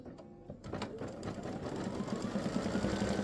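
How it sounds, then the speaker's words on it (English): Embroidery machine stitching an in-the-hoop Halloween pumpkin face design, a fast steady mechanical needle chatter starting after a brief pause and building to a close, even drone. "I'm going to stitch that again because I want that to show up"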